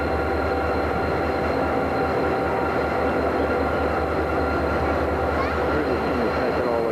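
A train passes steadily on rail, a continuous loud rumble with rolling wheel noise and a faint high whine from start to end, with some people speaking in the background.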